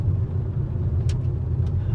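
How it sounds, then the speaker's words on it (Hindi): Steady low engine and road rumble inside a small petrol car with a 1.2-litre naturally aspirated engine, cruising smoothly with little vibration; an even, continuous drone with no voices. "कितनी प्यारी चल रही है, वाइब्रेशन नहीं है गाड़ी में बिल्कुल भी"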